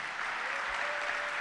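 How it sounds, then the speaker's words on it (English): A seminar audience claps for a guest who drove in from New Jersey, a soft, even stretch of applause heard at a distance with a faint steady hum underneath, no voices on top. "Let's clap for him."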